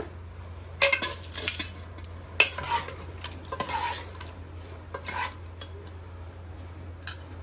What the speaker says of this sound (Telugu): ఇప్పుడు ఈ గిన్నెలో కర్రీ కూడా వేసేసుకుందాం